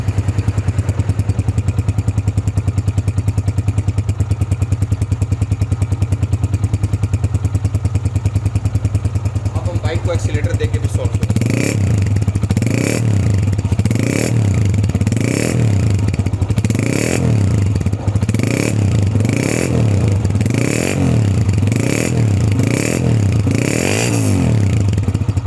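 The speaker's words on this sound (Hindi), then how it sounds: "बाइक के इंजन की भी साउंड सुनेंगे, साइलेंसर को" A 2005 Honda CG125 motorcycle engine runs close by, a steady low idle that shifts into a rhythmic, pulsing throb with clattering mechanical noise.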